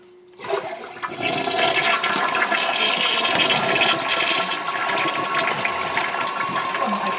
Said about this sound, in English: Let's see if it leaks when I flush it.